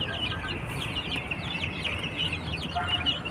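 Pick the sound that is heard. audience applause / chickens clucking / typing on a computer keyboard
chickens clucking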